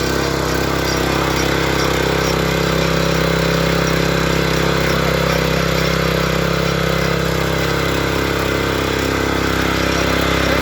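Bolat rotary tiller engine running continuously at a steady, loud, close drone with a constant mechanical hum and no talking.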